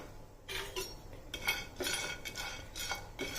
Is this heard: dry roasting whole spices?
yes